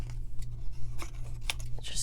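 Small scissors snip pink paper scraps in several quick, close cuts over a low background hum.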